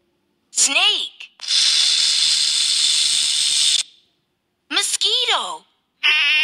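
Snake hissing in an animal sound-learning set for kids: a loud, steady, breathy hiss lasts about two and a half seconds, set between bright, swooping, voice-like squeals before and after.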